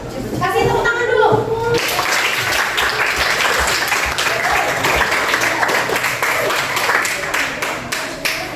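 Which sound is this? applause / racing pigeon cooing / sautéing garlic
applause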